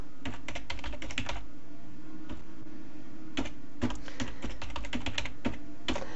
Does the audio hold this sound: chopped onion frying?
no